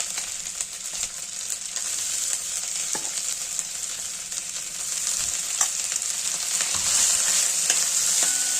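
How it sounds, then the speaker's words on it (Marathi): Coarse cracked wheat sizzles steadily as it is sautéed in a pan, with a constant hiss and occasional scraping clicks of a spoon stirring, close and continuous without talk. "आता हे थोडं परतवायचं"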